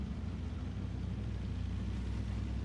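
Drift cars, a Nissan 180SX and a BMW, running at a drift competition in Latvia, heard as a steady, loud engine rumble and drone throughout with no clear gaps.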